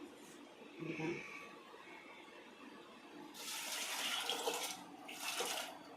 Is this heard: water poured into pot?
yes